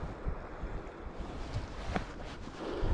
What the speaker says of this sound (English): Getting away from the wind here a little.